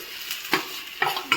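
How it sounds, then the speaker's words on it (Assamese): Potatoes fry in hot oil in a kadai alongside onions and chillies for an Assamese manimoni curry, with a steady soft sizzle broken by three sharp scraping stirs of a spatula against the pan, close by. "এতিয়া মই এই আলুখিনি ভাজি ল'ম"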